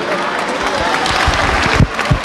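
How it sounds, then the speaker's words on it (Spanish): Loud, close applause from an audience at a recognition ceremony, dense clapping with a few sharper individual claps and some low thumps near the end. "Fuerte ese aplauso para Gastón."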